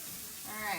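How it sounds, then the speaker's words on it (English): Chopped vegetables sizzle in a hot pan while being fried down for enchiladas, a steady close hiss that swells slightly toward the end. "let's just keep cooking this up real quick. These veggies cook down."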